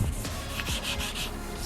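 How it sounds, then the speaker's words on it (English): Light hand sanding of plastic car trim before painting, a soft, close rhythmic scratching rub in short repeated strokes, alone with no talk. "now that everything is sanded down, just a super light sanding"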